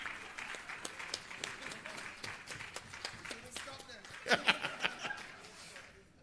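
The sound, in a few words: audience applause at a regional launch event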